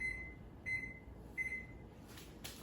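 A kitchen timer is set while cooking eggplant Parmesan, giving three short, faint electronic beeps spaced evenly over a quiet room background.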